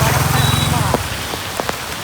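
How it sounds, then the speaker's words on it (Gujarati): Heavy monsoon rain pours down in a dense, steady roar during flooding, with a voice briefly speaking at the start. "વરસાદ છે જોરદાર."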